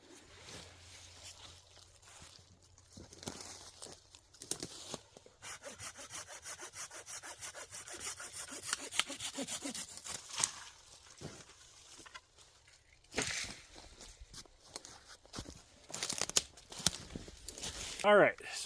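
Chainsaw cutting into maple and box elder trees for hinge cutting in woodland, a long buzzing run of sawing with pauses and restarts, fairly close, with brief voices in the background.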